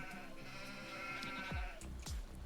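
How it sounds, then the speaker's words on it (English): Sheep bleating in Farming Simulator 25, two or three wavering calls over a steady background drone of in-game ambience, fairly close and clear. "Them sheep are going to get awfully annoying."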